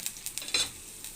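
Chopped green chillies and onion frying in a pan while being stirred, a soft sizzle with a few quick scraping stirs, close and fairly quiet.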